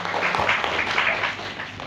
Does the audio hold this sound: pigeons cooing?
no